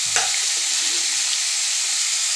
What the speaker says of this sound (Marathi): टॅमॅटोसुद्धा कांद्यामध्ये चांगलं परतवून घेतो.